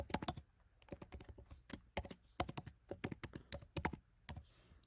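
Keys on a computer keyboard clatter in quick irregular bursts as an email address is typed, close and clear with short pauses between clusters of strokes.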